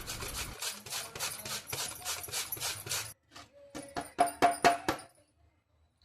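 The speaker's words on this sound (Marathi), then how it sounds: "आता ते बारीक खिसून घेऊ आपण" A potato is finely grated by hand on a grater, with a fast run of rhythmic rasping strokes followed by a few slower, separate scrapes, close and clear with no talk.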